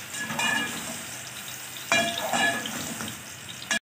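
Keema frying and sizzling steadily in a pan on the stove after half a cup of water has gone in, a continuous close hiss with a brief burst of stirring partway through and no talk.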